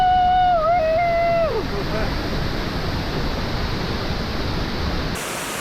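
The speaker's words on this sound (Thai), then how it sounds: "เป็นอีกหนึ่งน้ำตกนะที่ใหญ่มากๆนะ แล้วก็สวยมากๆของประเทศลาวน ะ" Tat Kuang Si, a large waterfall near Luang Prabang in Laos, roars as a loud, constant wash of broadband rushing water, with a brief tonal voice-like sound at the start.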